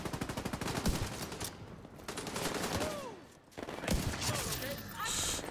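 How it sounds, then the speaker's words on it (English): Sniper rifle fire in The Division 2 sounds as sharp, separate shots spaced a few seconds apart, over a steady bed of in-game gunfire, chirping effects and voices. "Let's try some sharpshooting."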